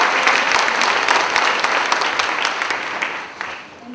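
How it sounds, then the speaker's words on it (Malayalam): An audience claps together at a gathering, a dense, steady ovation of many hands that holds strong throughout and eases off slightly at the end. "കൈയടിച്ചാ നന്ദി പറയട്ടെ."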